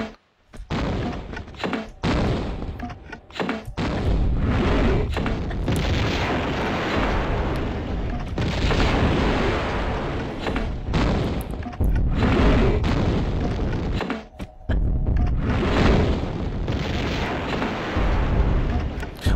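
Heavy gunfire and booming blasts in Tomb Raider II, loud dense bursts of shots and explosions that continue almost without pause, broken only by brief gaps, with no clear talk over them.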